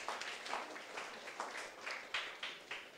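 A church congregation claps in a faint, distant burst of scattered applause, short and without voices over it.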